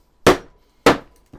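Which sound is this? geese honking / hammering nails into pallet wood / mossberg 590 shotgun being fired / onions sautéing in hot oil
hammering nails into pallet wood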